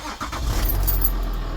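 A 2013 Ford Territory's engine catches just after the key turns in a newly fitted ignition switch, settling into a steady, loud idle rumble close by after a brief initial crank.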